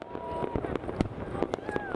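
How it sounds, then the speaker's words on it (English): New Year fireworks over the ancient Parthenon in Athens, with repeated sharp cracks and pops bursting irregularly over a dense crowd-like roar. "Fireworks explode over the ancient Parthenon in Athens as Greece welcomes the new year"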